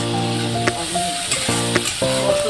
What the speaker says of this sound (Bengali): তেলের মধ্যে সব রকম মশলা রেখে দিলাম। দিয়ে মশলাটা ভালো করে করছি এখন